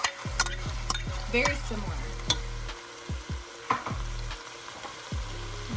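Canned crushed tomatoes go into a pot of BBQ chicken chili, giving a few wet plops and a soft sizzle and stirring noise, with a low, irregular scrape and a brief spoken remark.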